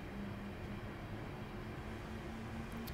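Electric hum of a Class 323 electric multiple unit powering up in Train Sim Classic, a steady low drone with a faint sustained whine, heard from inside the cab alone with no talk.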